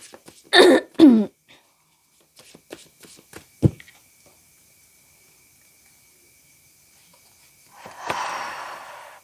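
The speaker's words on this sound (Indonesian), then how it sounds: "Akan kutarik 4 kartu, sesuaikan aja dengan kamu nanti." Tarot cards handled during a reading: a few soft taps and clicks, then a brief, dense riffling shuffle near the end, with no one talking.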